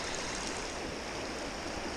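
A shallow steelhead river flows steadily nearby, a dense, even rush of water with no breaks, fairly loud and alone.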